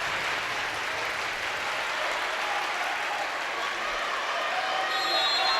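Steady applause and cheering from fans in Tarble Arena at a Carthage women's volleyball match against Elmhurst. The sound is a dense, even wash that continues throughout, with a commentator speaking faintly over it.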